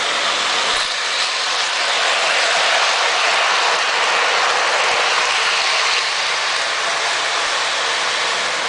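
A toy train set runs on its track with a loud, continuous, steady hiss and rush of sound that barely changes throughout, with no talk over it.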